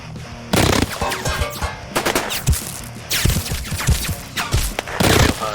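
Battle gunfire crackles in repeated bursts and rapid volleys, dense and chaotic with several weapons firing close by, with brief lulls between the heavier clusters of shots.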